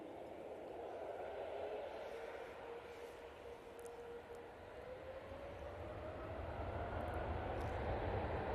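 A Singapore Airlines airliner comes in to land at Manchester Airport: a steady, distant jet roar with a slowly rising engine tone that builds gradually over the whole stretch.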